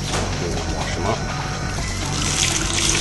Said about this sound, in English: now we have to wash the fruit and the vegetables